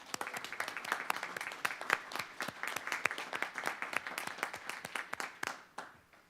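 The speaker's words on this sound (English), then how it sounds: "So if we can clap." Applause from an audience at a school district board meeting: a steady patter of many hands clapping at moderate, somewhat distant volume, thinning out and stopping after about six seconds.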